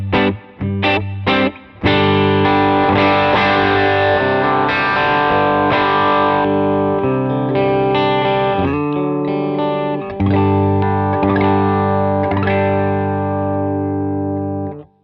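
Electric guitar tone from a Tokai Les Paul Reborn with Doyle Coil PAF pickups through a yellow-and-red King of Tone overdrive into a Fender Deluxe Reverb style amp patch: sustained, lightly driven chords ringing loud and alone after a few opening stabs.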